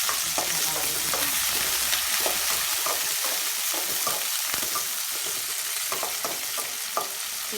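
Small onions and curry leaves sizzle and crackle steadily in a hot pan, with occasional stirring scrapes, while a dry fish gravy is cooked.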